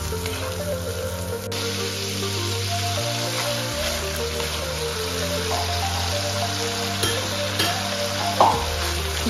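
Alfredo pasta sauce cooks in a pan with a steady, close bubbling sizzle and occasional stirring scrapes, running continuously without speech.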